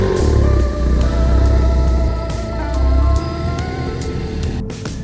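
A Ford Focus ST MK3 with a resonator-deleted exhaust on a test drive gives a loud, steady, close engine drone that swells and eases slightly, with no talking.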